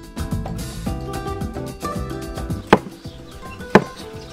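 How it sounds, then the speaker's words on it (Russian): A knife cuts tomatoes on a board while vegetables are prepared for an outdoor stew: a string of close, crisp chopping taps in an uneven rhythm, with two sharper, louder strikes near the end. "А вот помидоры сначала пополам, потом еще раз пополам."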